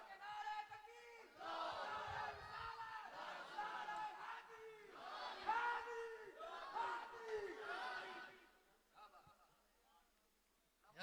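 A large gathering at a religious mehfil shouts a collective chant in unison in answer to a takbir call. Several loud, sustained group calls follow one another, then die away into quieter murmurs near the end.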